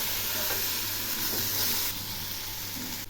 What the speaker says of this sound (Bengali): এই মশলাগুলো যত কষাবো তত টেস্ট হবে, সেই জন্য এগুলি খুব ভালো করে কষিয়ে নেব।